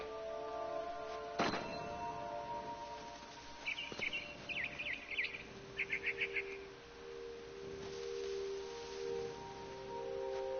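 A frightened bird in What Remains of Edith Finch gives quick bursts of short chirps, clustered in two or three rapid groups over a soft ambient hum, with a few dull thumps nearby.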